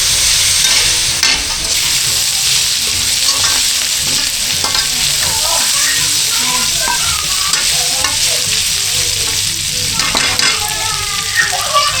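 Mickey noodles frying and sizzling steadily in a pan while being stirred, with scraping and clinks of the utensil throughout, close and fairly loud with no talk.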